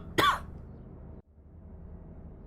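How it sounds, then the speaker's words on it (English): A single sharp cough bursts out near, loud and brief, then steady low background hum carries on alone, dropping out for a moment partway through, during a live Formula car sim race stream at Watkins Glen. "I'm gonna cough again."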